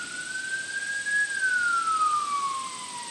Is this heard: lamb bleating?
no